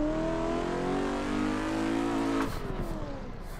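Race car running on Achilles 123 tyres during a practice day on a track, engine droning loud and close at high steady revs, then dropping off sharply near the end as the throttle lifts.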